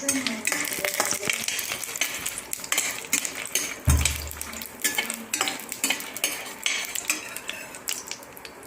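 Red chillies fry in oil in a pan while a metal spoon scrapes and stirs them, giving repeated clinks and soft sizzling with one heavier knock partway through; no talking.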